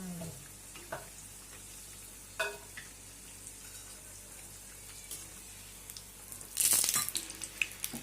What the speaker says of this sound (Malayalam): ഇതേപോലെ നമുക്ക് ബാക്കിയുള്ളതൊക്കെ ഫ്രൈ ചെയ്തെടുക്കാം